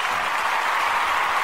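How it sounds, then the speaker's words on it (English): Dense, steady applause from a crowd, a continuous wash of many hands clapping at even loudness with no talk over it. "I don't need all that applause."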